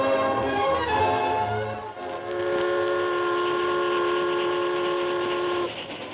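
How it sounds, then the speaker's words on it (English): A train horn blares in sustained, shifting tones over the steady clatter of a train moving fast along the tracks across the Texas prairie, loud and close. "The train from St. Louis to the far west sped over the Texas prairie."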